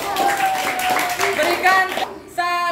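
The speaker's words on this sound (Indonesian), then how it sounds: "Berikan tepuk tangan untuk kelompok" Children in a classroom clap for a group that has just presented. The applause is brief and lively and shares the moment with overlapping voices.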